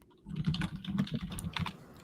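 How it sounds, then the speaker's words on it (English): Rapid, steady clatter of keys on a computer keyboard, typed close by at an even conversational pace for about two seconds, with no voices over it. "We can just hear Ray typing there"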